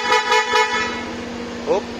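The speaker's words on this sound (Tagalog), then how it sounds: "Tapos pinalitan ko rin ang busina." A motorcycle horn on a Rusi RFi 175 toots several times in quick succession over engine noise, followed by a brief higher chirp near the end.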